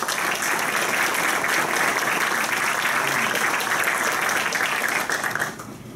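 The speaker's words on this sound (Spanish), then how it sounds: "pido a todos ustedes que la recibamos, por favor, con fuertes aplausos" A seated audience at a technology lecture event claps in a strong, sustained round of applause that holds evenly for several seconds, then drops off abruptly near the end, with no one speaking over it.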